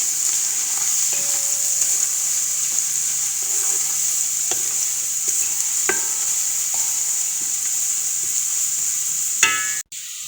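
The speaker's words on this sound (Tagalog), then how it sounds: "Lagay na natin yung carrots. Mikas-mikas." Carrots sizzle in butter in a hot pan while a utensil stirs them, a continuous close frying hiss broken by scattered scraping and clinking strokes, ending with a sharp clatter.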